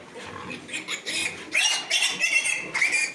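Piglets being weaned at around 40 days old squeal and grunt in a run of overlapping high-pitched cries that grow louder and more insistent toward the end, heard close up with no one speaking.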